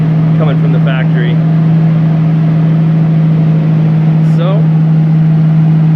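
A 1999 Lamborghini Diablo with an aftermarket exhaust idles steadily up close, a deep even rumble that holds loud throughout while someone speaks briefly over it.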